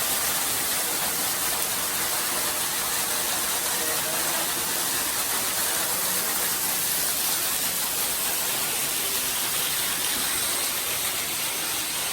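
Mossbrae Falls, a waterfall, gives a steady broadband rush of falling water that holds at one level for the whole stretch, close and unbroken, with no talking over it.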